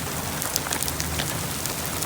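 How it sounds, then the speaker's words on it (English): Heavy rain pours steadily on foliage and ground in the Sonoran and Chihuahuan desert, a dense continuous hiss without pauses or voices. "look at this rain"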